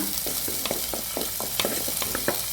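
Crushed garlic and onion sizzle in hot oil for Mangalorean crab sukka, with a steady frying hiss broken by regular spoon stirs and scrapes, close and loud.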